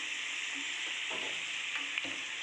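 Vegetables deep-fry in hot oil until crispy, giving a steady, soft, hissing sizzle with a few faint bubbling pops as the pieces are turned. No one speaks.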